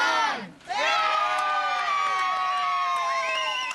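A crowd and children cheer and whoop as wartime streetlights switch on in Britain in 1944, a brief loud shout that dips, then swells into sustained excited cheering.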